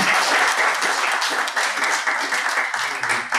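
An audience gives sustained applause after a talk at an event on Gaza and Israel, a dense, loud crowd clapping that holds steady throughout without voices.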